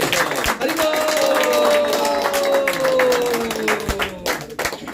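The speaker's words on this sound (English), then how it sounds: "Please give a much louder clap" A crowd applauds with dense, continuous clapping over a sustained droning musical tone, moderately loud throughout.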